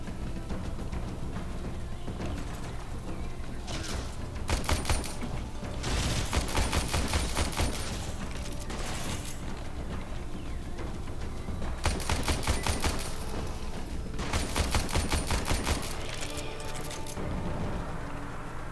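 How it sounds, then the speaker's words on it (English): Rapid bursts of shotgun fire in the futuristic space ninja shooter Warframe, loud clustered volleys repeating in several bouts with steadier game noise between them. "Where in the world is shotgun dude shooting from?"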